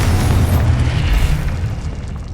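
Confringo fire-spell explosion in the game Hogwarts Legacy, a loud, close, deep booming blast with a thick rumbling roar that stays heavy and gradually eases off, no voices present.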